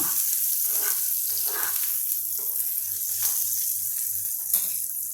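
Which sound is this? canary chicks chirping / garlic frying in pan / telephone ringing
garlic frying in pan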